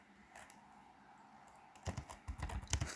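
Typing on a computer keyboard, with a few quiet key taps followed by a faster, louder burst of clicking at close range.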